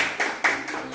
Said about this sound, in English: I invite you to give Miss Ferguson a round of applause as well.